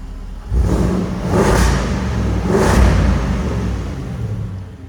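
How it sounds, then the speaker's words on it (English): A Land Rover Defender V8 engine revs hard twice in quick succession in dynamic mode, its open exhaust flaps roaring loud and close before settling to a rumbling idle. "you can hear the exhaust flaps open."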